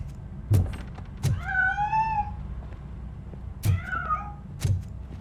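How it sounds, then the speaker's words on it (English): Cat in the Robocop: Rogue City video game giving two short meows between soft thumps, a quiet, close sound inside a room with a low hum beneath it. "That cat must be hiding inside."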